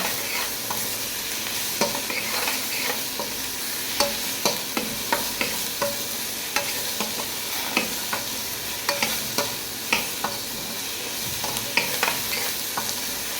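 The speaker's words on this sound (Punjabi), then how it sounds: "ਆਪਾਂ ਲਾਲ ਟਮਾਟਰ ਪਾ ਦਾਂਗੇ ਇਹਨਾਂ ਨੂੰ ਥੋੜਾ ਜਿਹਾ ਭੁੰਨਾਂਗੇ" Red tomatoes for a paneer curry frying in a pan, a steady close sizzle broken by regular clicks and scrapes of stirring, with no talk.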